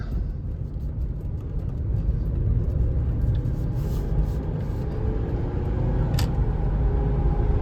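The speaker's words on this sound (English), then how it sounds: "This V8 has got the power, but we're gonna have to take it easy getting on here." Cabin of a 2005 Ford Explorer XLT with a V8 merging onto a freeway in evening traffic: a steady low engine and road rumble with tire noise, constant and close, and no talking.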